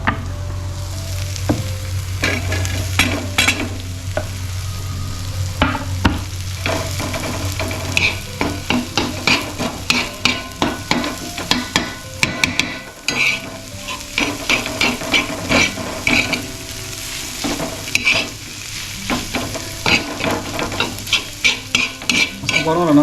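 Egg masala sizzles in a pan with a garlic tempering, stirred steadily with a utensil that scrapes and clicks against the metal in a quick irregular rhythm over a constant close frying hiss, with no talk.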